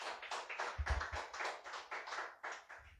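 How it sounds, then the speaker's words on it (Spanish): An audience applauds steadily in a continuous patter of many hands, moderately near, with no voices, at a church sermon. "Dele fuerte aplauso al Señor."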